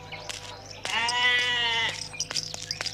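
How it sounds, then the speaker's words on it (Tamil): A goat bleats once in a rural Tamil comedy scene: one loud, close, drawn-out wavering cry lasting about a second, with brief scuffs and clicks before and after. "ஆடு நம்ம ஆடு, நம்ம நல்லா சாப்பிட வேண்டிய ஆட்டு இருக்க."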